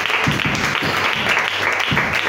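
Congregation applauding during a church service, steady dense clapping throughout, loud and close with no pause.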